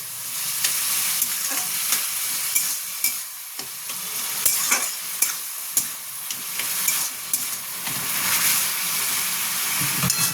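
Watermelon rind fries in a pan for chutney, a loud, steady sizzle broken by repeated scraping and clattering strokes as it is stirred.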